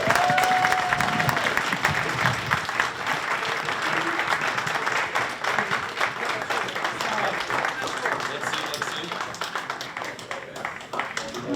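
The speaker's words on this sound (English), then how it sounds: "please give him a big round of applause." A crowd at a siyum celebration gives a rabbi a long, dense round of applause, loud and sustained throughout, with a brief voice early on.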